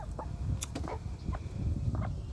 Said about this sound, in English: Mr. Rooster's over there.